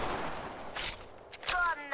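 Gunfire in the battle royale game Apex Legends, a few sharp bursts of shots in quick succession at moderate volume, mixed with faint game noise and no talk over them.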